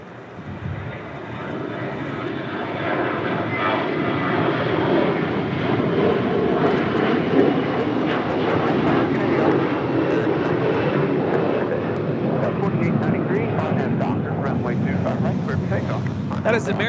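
An American Airlines Airbus A321 departs LAX with a loud, sustained jet roar that stays full and close throughout, while voices talk quietly underneath.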